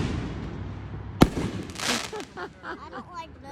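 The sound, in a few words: fireworks going off outdoors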